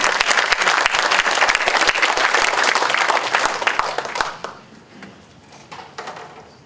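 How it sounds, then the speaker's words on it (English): An audience at a candidate forum in Morgantown, West Virginia, gives loud, dense applause that carries on for about four seconds, then thins to a few scattered claps. "Now you can clap."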